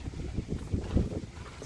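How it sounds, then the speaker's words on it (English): Wind gusts outside a tiny house produce a steady low rumble and buffeting against the microphone, moderately loud and continuous throughout. "It's very windy out here."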